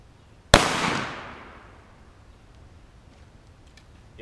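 A single sharp gunshot from cheap, soft ammunition fired at a block of wood in a backyard, close and loud, its crack trailing into a long fading echo, with no talking.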